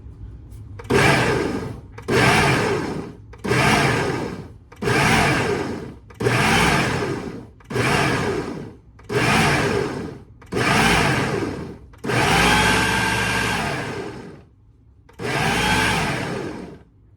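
A food processor whirs in about ten short loud pulses, each a couple of seconds long with brief pauses between, ending in a longer run.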